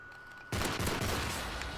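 Call of Duty: Modern Warfare 3 gunfire breaks in suddenly after a quiet moment and becomes a loud, sustained rattling burst that fills the rest of the moment, close and with no talk.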